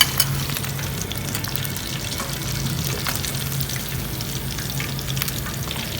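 Rava-coated fish deep frying in oil, a dense continuous sizzle and bubbling hiss that holds steady and close, with faint crackles and no talk.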